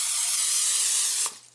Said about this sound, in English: Add a little spray to the bottom of my rice cooker.